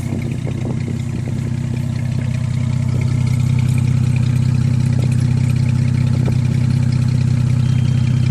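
Car engine, freshly rebuilt, idling steadily just after startup, with a loud, even low rumble that holds throughout with no talking.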